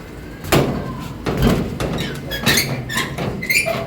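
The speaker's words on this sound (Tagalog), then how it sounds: "sarahan na natin itong pinto" A house door is pulled shut, with a solid thud, rattling and scraping as it closes and latches, followed by further knocks and handling noises nearby.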